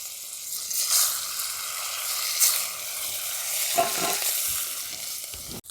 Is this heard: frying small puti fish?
yes